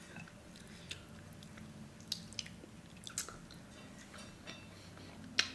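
Chicken and fufu with spicy piri-piri being chewed during a mukbang, soft wet mouth sounds and occasional sharper clicks and smacks, close to the microphone, fairly quiet and irregular with no speech.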